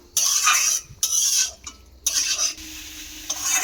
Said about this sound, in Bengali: ভেজে নেব মশলাটা সবজির সঙ্গে, তাতে করে একটা কাঁচা গন্ধ থাকে ওইটা যেন চলে যায় রসুনের